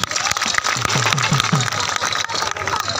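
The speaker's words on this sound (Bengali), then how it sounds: "সবাই তাদের জন্য একটা জোরে হাততালি দেন" Dense, steady clapping and crowd noise fill the whole stretch at a local football tournament final, loud and continuous, with a few voices mixed into the din.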